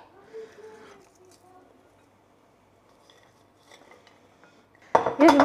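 Potato salad mixed in a bowl with utensils, a few clinks and scrapes of metal against the dish, mostly quiet with a louder burst of clatter at the end; a voice speaks briefly near the start.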